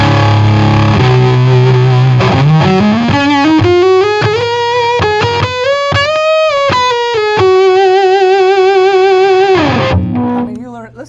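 An electric guitar runs through a high-gain PRS Blue Sierra 100W amp and gives thick, saturated distortion. Chugging low notes rise into a sustained bending lead line, loud and close, and end on a ringing note.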